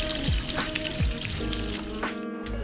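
Fresh water flows and splashes over rock at a riverfront in Ely, a close, continuous babbling trickle with small irregular drips and gurgles throughout.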